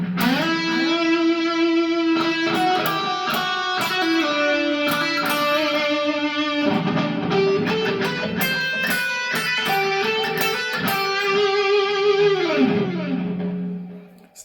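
Distorted electric guitar plays a song's solo at a slowed tempo, a continuous line of sustained and sliding notes with quick picked runs, loud and upfront, alone without talk, fading at the end.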